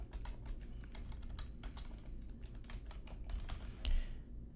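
Typing on a computer keyboard to name a draft campaign in an online ad tool: quick irregular key clicks in bursts over a low hum, faint and close, with no speech.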